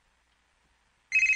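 A cellphone ringtone starts suddenly after near silence, a loud, close electronic ring that keeps sounding steadily to the end.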